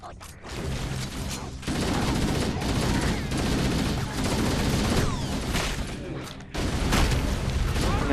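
Dense, continuous gunfire from Halo: Combat Evolved Anniversary, loud bursts and rattling automatic fire filling most of the stretch with brief lulls between volleys.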